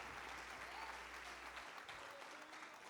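A church congregation at a youth movement anniversary service claps steadily, a full wash of many hands that holds even and close throughout, with faint voices mixed into the crowd noise.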